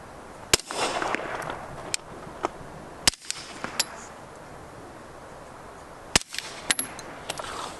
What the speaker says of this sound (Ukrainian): Маю тут такий пістолет Glock 5 генерації з прибором безшумної стрільби, спеціальними набоями.